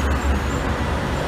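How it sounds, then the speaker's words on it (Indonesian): Road traffic roars close by as Wonogiri-route intercity buses pass around one in the afternoon, a loud, continuous engine and tyre wash with no talking. "Bis-bis Wonogirian pada lewat nih jam segini, jam 1."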